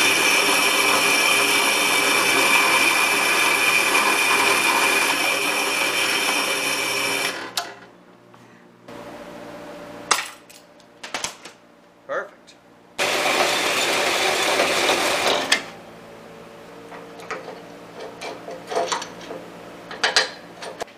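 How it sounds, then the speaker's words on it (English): Drill press boring holes in a front suspension part held in a vise, a loud steady whine with high-pitched drilling for several seconds, then silence broken by short clanks and a second run of drilling. "I relocated the vise to the drill press to hold this mess in place"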